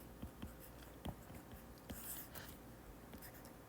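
Pen strokes on paper while working through a math inequality problem, a series of faint scratching and tapping marks at irregular intervals, quiet and close.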